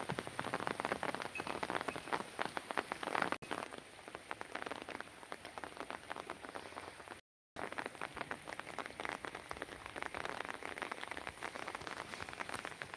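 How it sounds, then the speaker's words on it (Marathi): Steady rain patters densely on harvested rice fields in Palghar, constant and close, with a brief moment of silence partway through. "दोन दिवस पाऊस चालू आहे"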